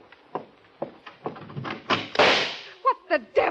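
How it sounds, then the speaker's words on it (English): A door is opened in an old radio drama, with a thud and a creaking swing, followed by several sharp knocks and bumps of movement close by. "Remember, as soon as I open the door."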